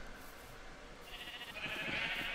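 A Minecraft sheep bleats in a short, wavering cry that swells toward the end, close and fairly clear over a soft background hum.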